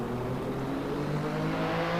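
A 1987 Williams turbo Formula One car engine in the video game Assetto Corsa, on the Spa circuit: a steady, droning engine note held at high revs, close and continuous, with a whirring undertone and no speech.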